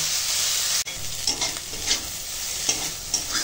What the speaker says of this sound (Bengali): তো উচ্ছেটা এখন ভেজে নেব।